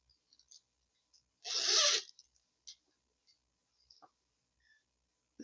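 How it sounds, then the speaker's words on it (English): A zipper on a gray corduroy bag is pulled once in a quick, rasping stroke at close range, surrounded by faint handling clicks in an otherwise quiet room. "And it's got a zipper."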